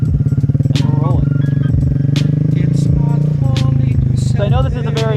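A motorcycle pulls away as the clutch is let out and the throttle opens, its engine a loud, steady, close drone with a voice talking over it.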